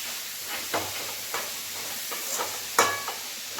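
Vegetables sizzle and hiss in a hot pan for fried rice, with steady frying noise and several sharp stirring scrapes and clinks at irregular intervals, close up and with no talking.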